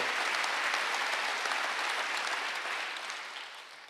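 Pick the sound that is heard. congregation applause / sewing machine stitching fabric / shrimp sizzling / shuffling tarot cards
congregation applause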